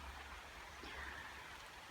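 Steady rain falls through a forest in mushroom season, a soft even hiss of drops with no speech, ending in a brief louder rustle.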